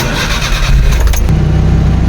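A Suzuki DA63 engine turns over with the ignition and catches, a loud close rumble that settles into a rough, steady idle.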